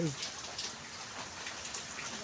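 Steady rain pattering on surfaces outdoors near a perched pigeon, a continuous soft hiss of drops without pauses and no voices.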